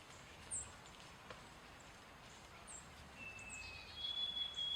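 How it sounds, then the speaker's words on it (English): Birds sing outdoors at a campsite, with a few thin, faint chirps and a drawn-out whistled note over a quiet hiss of background air. "And then nice little bird sounds all around."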